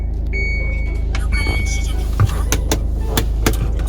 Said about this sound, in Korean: 시동 소리 너무 좋고요.